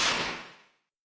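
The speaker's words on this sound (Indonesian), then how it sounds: "Sepertinya, suara itu suara tembakan." A single sharp gunshot in an animation cracks and then decays quickly to silence, sounding somewhat distant.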